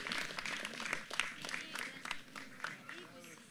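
Faint applause from a small audience at a book presentation, scattered claps mixed with murmuring voices and brief speech close by, fairly quiet throughout.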